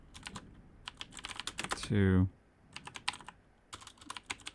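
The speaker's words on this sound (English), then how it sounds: "So I'm gonna start by just typing in" Fast bursts of key clicks from someone typing C# code on a computer keyboard, loud and close, with a brief word spoken and a short low thump partway through.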